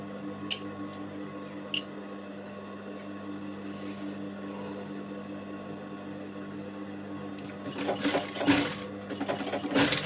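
A sewing machine stitches along a zipper on a stand-up collar sweatshirt, with a short run of rapid stitching near the end over a steady machine hum, plus a few light clicks earlier.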